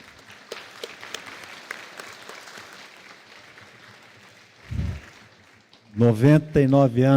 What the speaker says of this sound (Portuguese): Por favor, uma salva de palmas para a senhora, 99 anos.